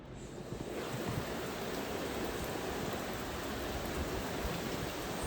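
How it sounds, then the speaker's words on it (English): Cyclone wind roars outside on a rainy day as a dense, steady broadband rush with rain noise mixed in, loud and continuous with no talking. "Still a cyclone. Holy moly. Are you ready for some wind?"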